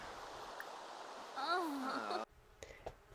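Rushing waterfall ambience from The Sims 4 plays as a steady broadband hiss for about two seconds, with a Simlish voice chattering over it, then cuts off abruptly to near silence with faint clicks.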